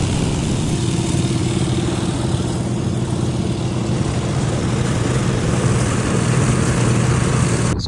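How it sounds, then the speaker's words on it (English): Flail mower chopping through dried corn stalks and cobs in a garden, a loud, steady engine drone with a constant churning rumble and no pauses or talk. "So I ran that flail mower through"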